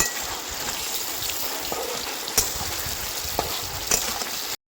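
Potatoes frying in oil in a village kitchen, a steady broadband sizzle and crackle close by, with a few sharper pops and spatters breaking through and no talk.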